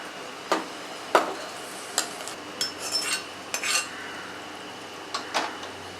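Vegetables being stirred into sambar rice in a pan, with a utensil scraping and clinking against the metal in scattered, irregular strokes, fairly close and alone.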